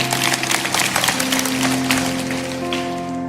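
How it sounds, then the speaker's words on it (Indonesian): A church congregation applauds during a sermon, dense loud clapping over sustained organ or keyboard chords that continue steadily as the clapping fades slightly. "kasih tepuk tangan untuk Tuhan"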